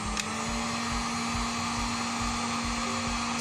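A heat gun switched to its high setting blows a steady, loud, even whoosh of hot air with a constant hum underneath, close by and uninterrupted, with no speech.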